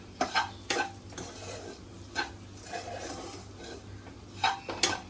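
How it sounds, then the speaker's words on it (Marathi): Semolina and grated coconut stir-roasting in ghee in a pan for coconut ladoos, with a spoon scraping and rasping steadily against the pan. Sharper scrapes stand out at intervals over a soft, continuous rustle, close and fairly quiet, with no talking. "आता ह्यामध्ये आपण उरलेलं तूप घालायचं आहे परतून घेऊया"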